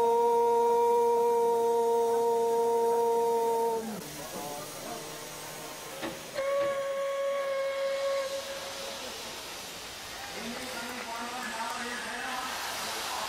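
An Indian Railways steam locomotive sounds a loud, sustained whistle for several seconds, then steam hisses and roars, followed by further whistle blasts over continuous hissing; no talk.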